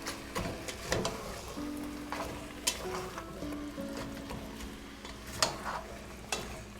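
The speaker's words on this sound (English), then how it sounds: "just going to cook the meat and the onions until the meat's done" Quiet sizzling of meat and onions frying in a pot with occasional stirring clinks and scrapes, soft and close, no voices.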